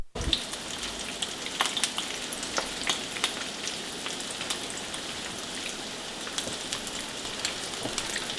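Shrimp frying on one side in a pan, a steady close crackle of popping oil with small sharp spits scattered through it, with no one talking.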